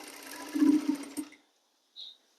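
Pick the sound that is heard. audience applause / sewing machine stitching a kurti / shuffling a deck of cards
sewing machine stitching a kurti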